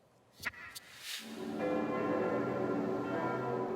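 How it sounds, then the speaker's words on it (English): A few clanks and knocks give way to church bells ringing together across Paris in a sustained, resonant peal. "France resonated with the sound of church bells"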